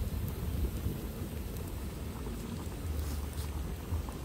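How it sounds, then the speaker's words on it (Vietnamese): Rain pours down outdoors as a steady, dense hiss with a low rumble beneath, continuous and fairly loud throughout with no talking. "Trời đổ mưa luôn rồi."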